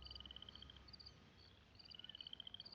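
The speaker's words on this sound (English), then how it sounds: "Is there a frog nearby?" In the Elder Scrolls Online game world, a frog croaks in rapid trilling pulses over a quiet ambient bed, with faint repeated calls rising again toward the end.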